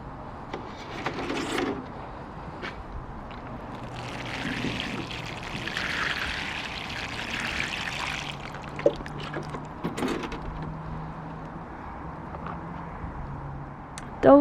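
Water is poured onto rose cuttings in a pot, a soft, steady trickle that swells for a few seconds in the middle against quiet background noise.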